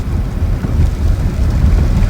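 Rain pounding a moving Ramsey County sheriff's patrol car, a loud, continuous low roar that gusts a little and mixes with wind buffeting, close and unbroken.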